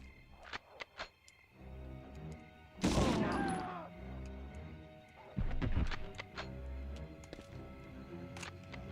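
Gunfire behind the player in GTA Vice City, with several sharp shots and two louder crashing bursts among clicks and thuds in a busy game soundscape.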